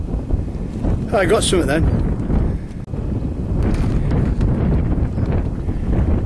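Wind buffets the microphone on an exposed bank top along the coast near Keyhaven, a heavy, continuous low rumble with someone briefly speaking over it.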